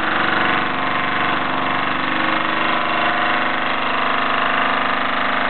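A 1978 Mamod SE3 sight glass toy steam engine, fired by Esbit fuel tablets, running in steam, producing a steady close mechanical whir with a fine rapid rhythmic chuff throughout.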